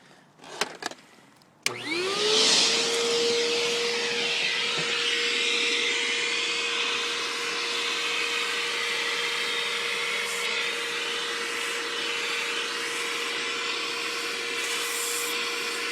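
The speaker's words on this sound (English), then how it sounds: "This is a standard household vacuum that's about 8 years old." An eight-year-old standard household vacuum cleaner with a hose attached clicks a few times, then switches on and settles into a loud, steady, close whine that holds to the end.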